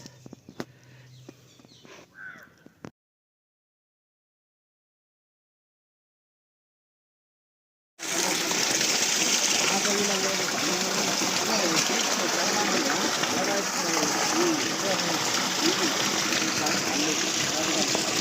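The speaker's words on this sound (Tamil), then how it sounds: "மேலே மூடி இருக்குது ஆனால் தண்ணி வந்துட்டு தான் இருக்குது" Water from a Versil PMSM solar pump pours in a steady, loud, continuous rush into a livestock water tank, following a short stretch of outdoor talk and a silent gap.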